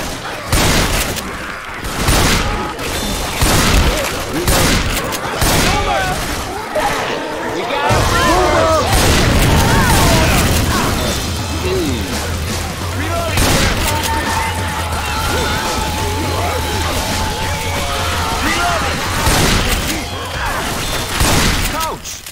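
Steady gunfire crackles through a chaotic fight in Left 4 Dead 2 at the Dark Carnival, loud and close with rapid bursts and thumps, while characters call out over the shooting.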